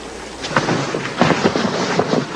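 Thunder rumbles outdoors in the rain, a low rolling storm with several soft pulses under steady hiss.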